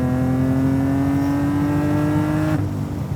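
An 850+ horsepower BMW M Coupé engine pulls hard and close, its tone climbing steadily before a sudden drop as it shifts, with no voices.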